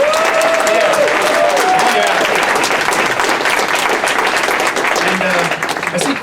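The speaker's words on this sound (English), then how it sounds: "So how about a big round of applause to Tom and Vicky for putting this shindig to" Wedding guests break into loud, close applause, a thick sustained clapping that carries a few cheers and voices early on before tapering slightly toward the end.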